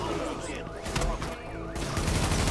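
Gunfire in The Division during a fight at the Lincoln Tunnel, with bursts of rapid shots and louder blasts crackling close and loud, and someone talking between the volleys.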